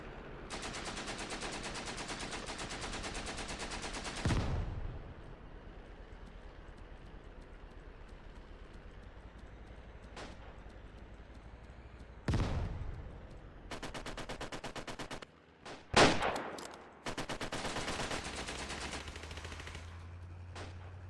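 Bursts of automatic gunfire and single shots ring out in a video game infantry battle, loud rapid volleys separated by quieter stretches of battlefield ambience.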